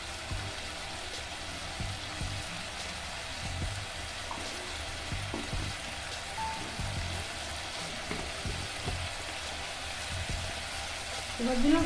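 Ground cumin, turmeric and chili powder frying in oil in a pan for a Bengali bata fish curry, a soft continuous sizzle with faint stirring scrapes, fairly quiet and steady throughout.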